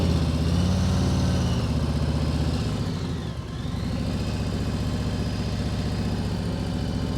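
A motorcycle engine idles and runs steadily at mid pitch, dipping briefly as the bike slows to a stop under front braking only, then settling back into a continuous idle, loud and close with no talk.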